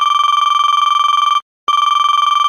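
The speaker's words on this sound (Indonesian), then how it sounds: "tiba-tiba ponsel berdering lagi." A mobile phone rings with a steady electronic trill, loud and close, sounding continuously before a brief gap and then resuming.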